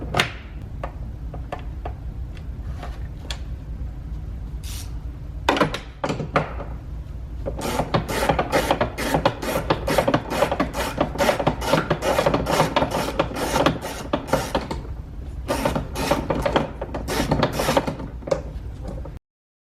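A ratchet loosens a size 11 nut with a washer on a 2013-2020 Ford Fusion side mirror, with rapid, repeated clicking strokes close by, a short pause partway through, then a long run of clicks, and no talking.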